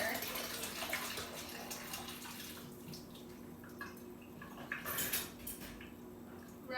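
Water running into a sink while boba drains, with a spoon clinking against dishes, steady flowing water and a few bright metallic clinks, fairly quiet.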